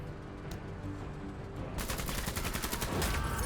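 Rapid bursts of gunfire ring out in the sci-fi turn-based tactics game Menace, a quick volley of sharp shots over a low droning battle ambience.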